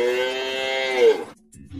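A cow moos once, a long, loud, close lowing call that swells and then cuts off abruptly, followed by a brief quiet gap.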